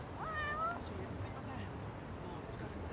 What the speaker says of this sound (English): I hear the cat.